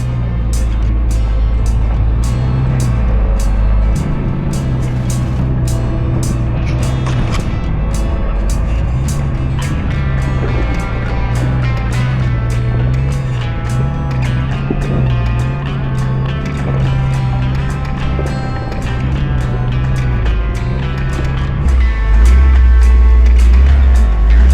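4x4 vehicle with lockers engaged crawling up an off-camber obstacle on the Spring Creek trail near Denver, its engine rumbling low and close with surging revs and steady ticking clatter, no talking.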